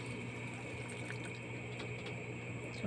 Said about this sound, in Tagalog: tapos maglagay tayo ng tubig.